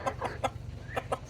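Several quick, soft clucks from chickens in a pen with Orpington, Brahma and Cochin frizzle hens, spaced in a loose rhythm over low background hum.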